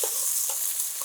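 Garlic sautéing with onions in a pan, a soft continuous sizzle with a few light stirring taps.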